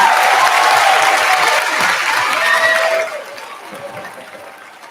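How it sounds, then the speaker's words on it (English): An audience claps for local performers at the end of a show, dense steady applause that fades and thins toward the end, with faint crowd murmur. "One more round of applause for our amazing local performers, please"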